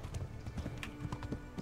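Horse hooves gallop in a video game set near Talmberg, producing a quick, steady, close run of clip-clop beats at moderate level, with no talk.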